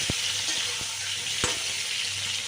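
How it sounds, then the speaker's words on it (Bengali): Pointed gourd (potol) pieces frying in cooking oil in a pan, a quiet continuous sizzle with a few brief stirring knocks. "পটলটা ভেজে ভেজে নিচ্ছি আর আমি পটলটা কিন্তু রান্নার শস্য তেলেই করবো এই দেখো ভেজে নিচ্ছি এইভাবে"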